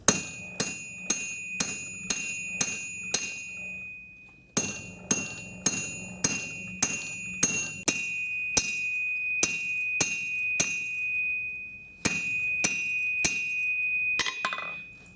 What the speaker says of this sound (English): I'm going to use a little bit bigger hammer.